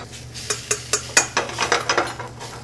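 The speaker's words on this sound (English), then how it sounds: "What you want to do is just stir it in." Sour cream stirred into a pan, quick rhythmic scraping and clinking strokes of a utensil against the pan over a low background hum, close and clear with no talking.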